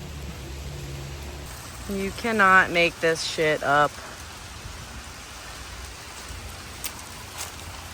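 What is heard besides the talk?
rain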